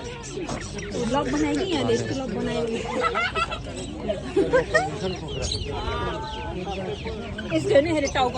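Chickens and roosters cluck and squawk repeatedly amid a busy crowd at a Sunday market in Lisbon, Portugal, with people chattering and talking nearby throughout.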